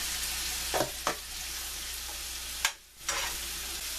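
Mushrooms and zucchini sizzle steadily in a frying pan, with a few sharp utensil scrapes and stirring clatters breaking through the constant hiss; no voices.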